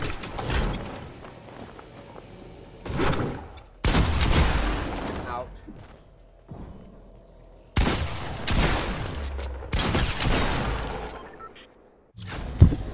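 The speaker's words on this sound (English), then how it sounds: "I was just shooting you." Gunfire in a video game, a creative-mode fight, comes in several loud bursts of rapid shots separated by quieter stretches with faint mechanical clicks.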